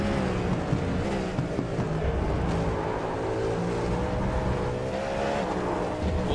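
Onboard engine roar of a GT3 race car powering out of turn 1 at Circuito de Jerez, a steady loud droning note with shifting revs and faint tyre noise, continuous and close.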